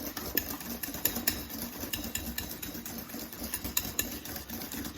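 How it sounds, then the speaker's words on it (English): A whisk beats carrot cake batter in a bowl, a steady busy scraping and clinking that runs close and moderately loud throughout with no talk. "that's all nicely whisked together"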